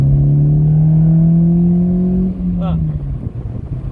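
Peugeot 306 convertible with an aftermarket air filter and exhaust, its engine revving up loudly in a rising steady drone, then dropping away as a single word is spoken near the end.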